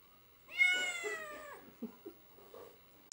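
A cat among many cats and kittens taken from an abandoned home gives one long, clear, rising-and-falling meow, followed by a few faint short mews in a quiet room.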